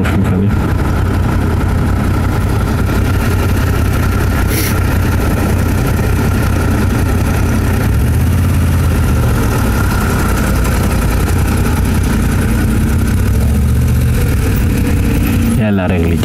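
A Moto Guzzi V7 Stone motorcycle engine idles with a steady low rumble at close range, with a brief sharper burst near the end.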